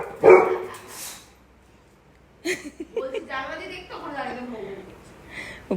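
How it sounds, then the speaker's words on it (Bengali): A dog barks sharply once nearby, then later gives several yips and whimpering sounds mixed with people talking. "বুলু হচ্ছে বাইরের ওই কুকুরটা"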